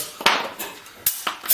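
A small hammer taps a metal reducer pipe segment three or four times, giving sharp, close, ringing clinks spaced unevenly in a quiet room.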